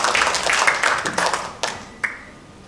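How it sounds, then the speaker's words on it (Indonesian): An audience claps for a jury member at a Pesparani II scripture-telling contest in Jakarta: a brief burst of applause that thins out into a few last scattered claps. "Kita berikan tepuk tangan yang meriah untuk Ibu Lindawati Wahyudi"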